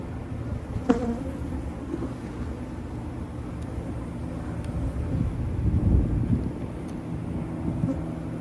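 Honey bees buzzing around an open hive during a beekeeping rescue, a steady low hum of many insects close by with a brief knock near the start and faint occasional rustling.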